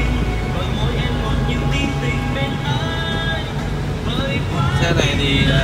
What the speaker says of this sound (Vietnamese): động cơ nổ cũng rất êm